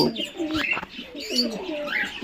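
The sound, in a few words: fantail pigeons cooing at a pigeon farm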